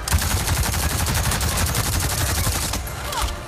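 Anti-air turret gunfire in Avatar: Frontiers of Pandora, a loud, rapid, continuous burst of automatic shots in fast even rhythm, fading slightly at the end.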